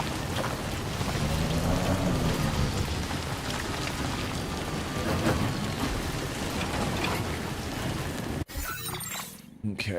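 Steady, dense rainfall with rumbling thunder fills the scene in the Death Stranding 2 video game, Timefall pouring continuously and close before a sudden cut near the end; a voice talks faintly underneath.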